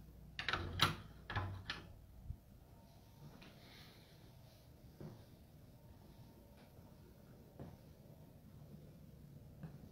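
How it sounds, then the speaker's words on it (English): An indoor door is pushed shut, giving a few sharp clicks and knocks from the latch close together in the first two seconds, then a quiet room with only a couple of faint ticks. "I'm just gonna shut this door."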